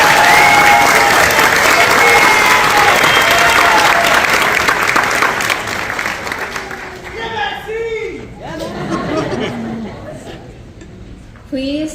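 Audience applause after honor society inductees are named, loud sustained clapping from a crowd that fades out over the first half, followed by people talking nearby.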